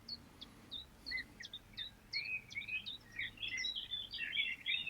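Birds chirp and tweet in the background outdoors, a quick series of short high calls that grows busier and more overlapping, fairly faint against a low ambient rumble.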